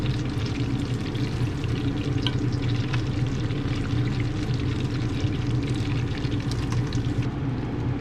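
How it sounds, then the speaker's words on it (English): Breaded jalapeno cheese balls coated in flour and breadcrumbs deep frying in hot grease, a steady dense bubbling sizzle that holds evenly throughout at close range with no talking. "We flour it and breadcrumb it and deep fry it."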